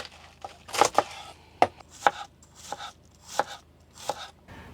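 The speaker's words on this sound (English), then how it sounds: "Next, we're just going to finely chop a cabbage" A knife finely chopping a cabbage on a cutting board, about eight distinct close, crisp cuts in an uneven rhythm with quiet pauses between strokes.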